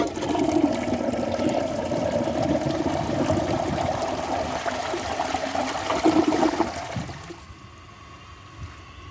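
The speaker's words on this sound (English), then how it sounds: "let's give it a flush and see how it does on the tests" A 1983 Universal Rundle Atlas toilet fitted with a regular flapper flushes with a loud rushing swirl of water, tapering to a quieter trickle and refill near the end.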